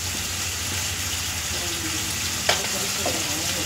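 Mustard and poppy seed paste sautéing in a pan for a fish-head and Malabar spinach curry, a steady close sizzle and hiss running throughout, with a faint stir or clink near the middle.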